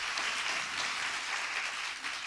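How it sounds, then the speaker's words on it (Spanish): A church congregation applauds its pastors with continuous, even clapping that sounds fairly distant and soft, filling the whole moment without any speech. "Un aplauso para ellos, por favor, honrémosles."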